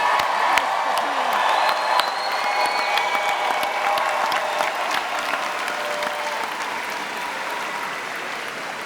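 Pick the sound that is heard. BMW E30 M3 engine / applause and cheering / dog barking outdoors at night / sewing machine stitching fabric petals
applause and cheering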